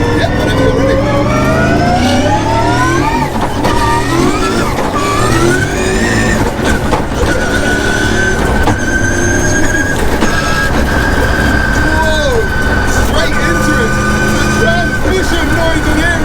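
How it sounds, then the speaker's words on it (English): Inside a Toyota Corolla AE86 race car, a high transmission whine climbs in pitch as the engine accelerates hard from a launch, loud and continuous, with voices talking over the noise. "Transmission noise in here is crazy!"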